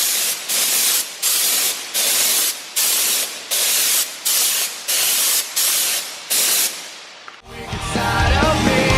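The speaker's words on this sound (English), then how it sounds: "Is this your first time using a spray gun?" Repeated hissing bursts of a spray gun, about a dozen even pulses with short gaps, close and loud, followed by a rumbling shift in the background.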